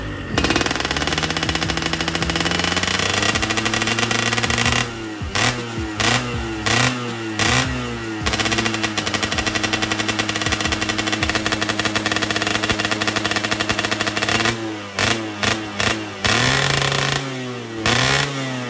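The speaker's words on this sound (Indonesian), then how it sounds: "masih nyala ini motornya cuy" A two-stroke motorcycle engine, such as a Yamaha RX-King or Suzuki Satria Hiu, starts and runs loud and close, with a buzzing idle broken by repeated sharp throttle blips and revs.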